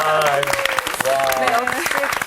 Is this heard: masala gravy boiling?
no